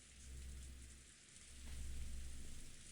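Steady rain in the visual novel game Umineko pours down on asphalt in a dense hiss with a low rumbling undertone, swelling slightly louder toward the end.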